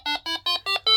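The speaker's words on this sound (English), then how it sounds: "the alarm is quite slow" A Paratek Tempus version 7 detector alarm sounds five evenly spaced shrill electronic beeps, each about a tenth of a second long, loud and close with nothing else audible.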